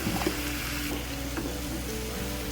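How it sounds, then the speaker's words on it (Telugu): Chopped tomatoes frying with ginger garlic paste for a rajma curry, a dense steady sizzle close up with occasional soft stirring clicks. "అల్లం వెల్లుల్లి పేస్ట్ పచ్చివాసన పోయిన తర్వాత మనం కట్ చేసుకున్న టమాటా మొత్తం ఇందులో వేసేయాలి."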